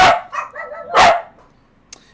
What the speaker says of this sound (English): the dogs are going to stop barking